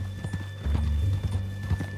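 Horse hooves clip-clop in a steady walking rhythm in Red Dead Redemption 2, close and moderately loud over a low game soundscape, with a brief whinny-like tone and no talk.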